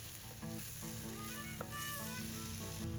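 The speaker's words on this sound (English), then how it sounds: "Give my gnocchi a little sear." Gnocchi sear in a pan outdoors in a forest, a soft, continuous sizzle with light crackles, faint and close with no talk.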